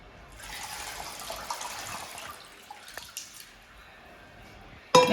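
Sliced potatoes are rinsed in water with soft splashing and dripping, quiet and close, ending in a brief louder clatter.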